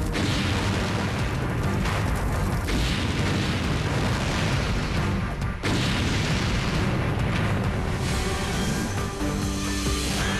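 A huge industrial fire burns hundreds of tons of PVC plastic and thousands of gallons of volatile chemicals at a plastics plant in Santiago, Chile, producing a dense, continuous roar with deep rumbling and crackling bursts that never lets up.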